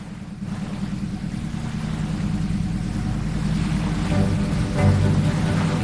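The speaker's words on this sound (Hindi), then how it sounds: "इंजन पावर हाई कर रहा हूँ" A cartoon boat's engine with the power pushed high, a steady low droning hum that swells slightly toward the end, loud and continuous with no talk.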